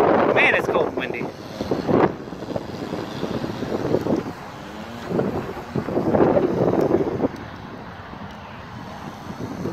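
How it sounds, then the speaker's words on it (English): Cold wind blowing outdoors while a scratch-built rescue airboat model is tested, rumbling and buffeting against the microphone in loud, uneven gusts with no clear break. "Man, it's cold and windy."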